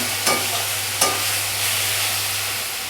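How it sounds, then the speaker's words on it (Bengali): Small corica fish frying in a little oil, a continuous bright sizzle with two short sharper bursts as the fish are stirred or turned in the pan. "আমি অল্প তেল দিয়ে নিয়েছি, মাছটাকে একটু সাঁতলিয়ে নিতে হবে তো, সেই জন্য এইভাবে মাছটাকে একটু সাঁতলে নেব"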